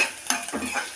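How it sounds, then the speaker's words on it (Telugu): Onions and green chilies frying in hot oil in a pan, a short sizzling burst with the scrape of a spoon stirring, close and moderately loud with no voices. "ఇప్పుడు ఉల్లిపాయ పచ్చిమిరపకాయ వేసుకుందాం."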